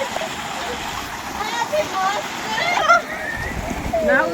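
Water from a running pump motor splashes and gurgles steadily at close range in a village setting, with voices talking over it and a few louder splashes toward the end.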